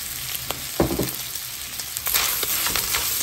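Bacon with garlic and onion frying in rendered fat in a pan gives a close, steady sizzle, with a few louder spattering bursts and stirring scrapes.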